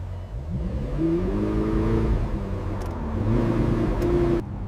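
2015 McLaren 570S Coupe being driven after restoration, its engine note rising and falling through a couple of revving pulls, heard from outside at moderate distance with faint road noise.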